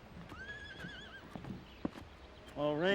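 Horses on a farm: a wavering neigh rises early and fades, a few soft hoof and handling knocks follow, then another loud whinny breaks in near the end, fairly close and without talking.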